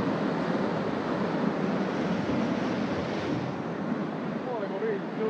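Ocean waves break on the shore in Kauai, Hawaii, making a steady, dense roar of surf that fills the whole stretch without a break.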